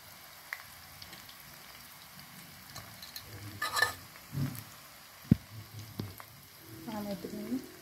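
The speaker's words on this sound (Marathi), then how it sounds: "डीप फ्रायच करते मी, तुम्ही याला शॅलो फ्राय पण करू शकता." Soybean kantaki deep-frying in hot oil at home, a light sizzle broken by scattered pops and clinks of a utensil stirring, with a short voice near the end.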